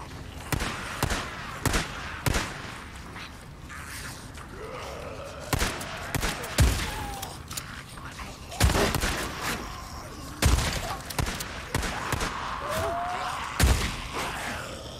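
A shotgun fires in the video game Days Gone, with about a dozen sharp, loud blasts in uneven bursts. Faint rising whines and background game noise sit between the shots.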